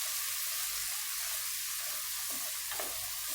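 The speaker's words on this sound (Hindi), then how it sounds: "प्याज को हल्का सा सोटे कर लेंगे हम" Finely chopped onions sautéing in hot oil in a karahi, a steady soft sizzle throughout with a couple of faint stirring scrapes near the end, no talking.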